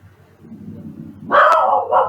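A dog barks nearby in a home kitchen, a single loud, sharp bark followed by a second shorter one, rising suddenly out of a quiet, low background hum.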